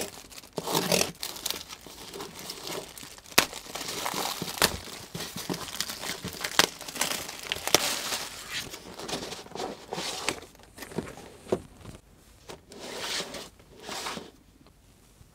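Plastic wrapping crinkles and tears as a game controller package is opened, a busy run of close, loud rustles, rips and crunches with short pauses toward the end.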